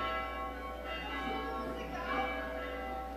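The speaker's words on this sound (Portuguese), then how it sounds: "Agora eu vou tocar as 12 badaladas." A bell rings during a public forum session on sustainable development, its sustained tone holding steady and fairly loud throughout, with a faint murmur of voices underneath.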